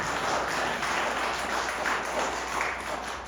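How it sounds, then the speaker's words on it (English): A church congregation claps in offering during a worship service, a continuous broad patter of many hands at steady volume, with no talk. "Can we give a clap of offering to our living God?"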